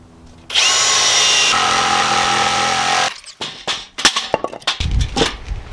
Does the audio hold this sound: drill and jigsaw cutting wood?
yes